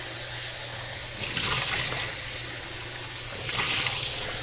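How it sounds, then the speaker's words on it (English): Tap water runs steadily onto freshly cut crappie fillets in a sink, a close, continuous hiss of flowing water that swells briefly twice as the stream shifts over the fish. "I'm gonna rinse it off real good."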